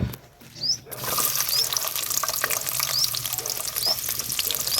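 Steady hissing sizzle of onions frying in hot oil, starting after a brief quiet moment and continuing evenly, with faint high dove chirps above.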